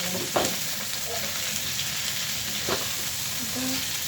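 Ginger and garlic frying in hot oil, a steady close sizzle with a few soft stirring clicks and taps, continuous throughout with no voices.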